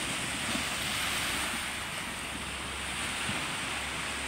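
Gentle surf washes steadily onto a beach in broad, continuous noise, with light wind buffeting the microphone and no talk.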